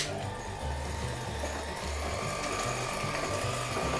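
Electric hand whisk creaming butter for a Victoria sponge, a steady close motorised whir running throughout with a faint pulsing rattle as the beaters move through the bowl.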